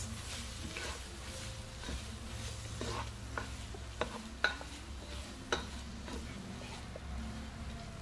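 Ham and mushroom sauté in a pan for carbonara, a faint steady sizzle with scattered light scrapes and clinks of a utensil stirring, quiet and continuous throughout.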